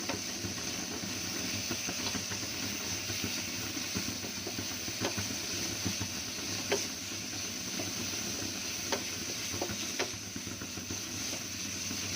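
Spice masala with a splash of water fries in a pan for aloo paratha, giving a steady close sizzle broken by occasional scraping stirs, with no talking.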